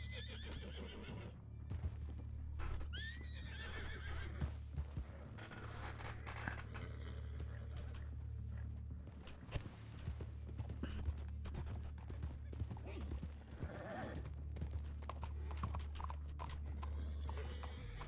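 In a RedM Wild West roleplay game, a horse neighs several times and its hooves clip-clop at an uneven pace, fairly quiet and close, with rustling and scraping around it.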